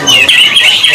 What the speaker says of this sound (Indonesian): yang terlihat ya dari pencet matahari yang sedang rajin bunyi